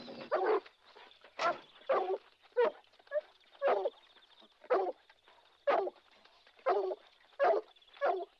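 Dogs bark in a steady series of sharp, evenly spaced yaps with soft whimpering between them, fairly close and with no talk over them.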